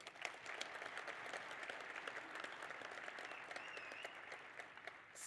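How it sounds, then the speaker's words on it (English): An audience applauds the organizing staff at a college of nursing white coat ceremony, with dense, sustained clapping that holds at an even level for several seconds. "I also want a big round of applause for the staff who put all of this together."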